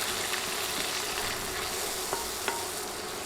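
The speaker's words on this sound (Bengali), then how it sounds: "নেড়ে গুঁড়া মশলাগুলো কয়েক সেকেন্ড ভেজে নিব।" Ground chili, coriander and cumin powders frying with salt for moong dal, with steady soft sizzling throughout and a couple of faint clinks from stirring, no talk.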